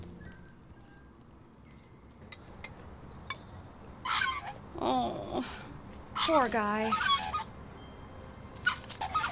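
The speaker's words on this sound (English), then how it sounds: "let's see if the bird gets smoked out" Cartoonish bird squawks and honks from the PC game Elroy and the Aliens, 2025, two bursts of harsh warbling calls over quiet background, with a person talking briefly.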